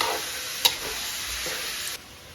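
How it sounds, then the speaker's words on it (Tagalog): Ground meat sizzles in a hot pan with bell pepper as a spatula stirs it, a steady close frying hiss with one sharp clink of utensil on pan, no voices. "Pag nag-golden brown na, lagay ko na yung giniling. Halo ulit."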